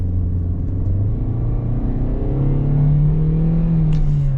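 A 2021 Kia Soul GT-Line accelerating at full throttle in sport mode, heard from the cabin as a loud, steady engine drone whose pitch climbs gradually, with no talk.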